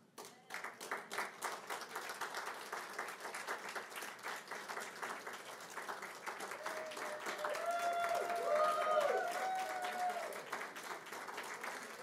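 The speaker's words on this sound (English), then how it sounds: "Let's have a round of applause for these 16 models" A round of applause for sixteen fashion show models, including three couples: continuous, even clapping from an audience that swells slightly midway, with a voice speaking faintly over it in the latter half.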